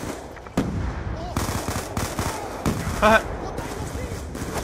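Gunfire in the Black Ops 2 campaign: repeated bursts of automatic fire and sharp shots at moderate loudness, with a brief laugh from a player over the shooting.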